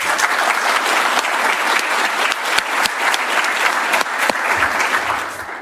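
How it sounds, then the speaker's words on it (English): An audience at a Wall Street policy talk on American AI strategy toward China breaks into sustained applause, a dense, loud wash of clapping that holds steady for several seconds before easing slightly at the end. "they're clapping for you"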